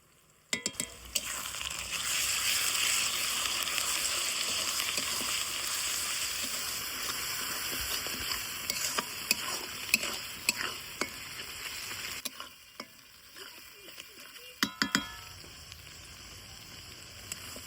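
A spice paste of ginger, garlic, cumin and dried chili with turmeric sizzles in a pan for snail curry, a steady close frying hiss with occasional scraping stirs and clinks.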